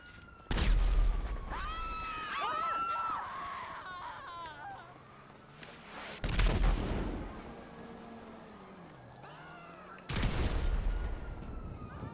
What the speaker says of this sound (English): Oh, he using bombs